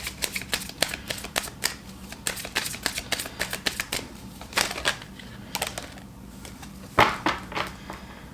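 Tarot cards handled and shuffled at close range during a pick-a-pile reading, a quick run of crisp riffling snaps and slaps with brief pauses and one louder clack near the end.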